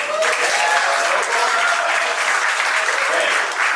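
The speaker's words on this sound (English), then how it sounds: "Clap it up if you're a local, live here in Las Vegas person." Audience at a live stand-up comedy show in Las Vegas claps steadily and loudly for nearly four seconds, a dense, even wash of many hands with no talk over it.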